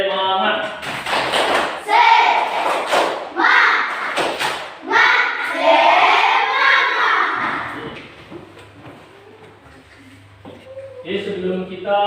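A group does an Indonesian 'tepuk semangat' spirit clap, with loud rhythmic claps and thumps interleaved with chanted shouting voices, then fading to quieter talk before a final burst.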